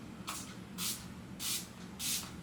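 A refreshing face mist bottle sprays four quick, even bursts at a steady rhythm, each a soft close hiss, over quiet room noise.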